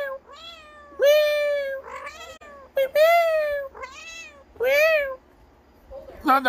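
A domestic cat meows repeatedly indoors, giving four or five drawn-out, wavering calls separated by short pauses, close and clear over a quiet background hum.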